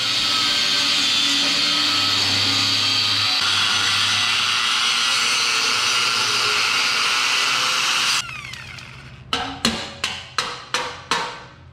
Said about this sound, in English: I'm going to cut them out with the cutoff wheel and a grinder